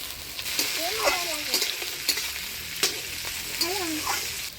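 Cauliflower, beans, capsicum and peas stir-frying together in a pan, a steady close sizzle broken by repeated scraping strokes of a spatula and a few sharp clanks, with no talk.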